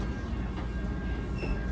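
Inside a northbound Caltrain limited-stop train, a steady low rumble of the moving carriage with faint rail clatter, continuous and enclosed, with no talk.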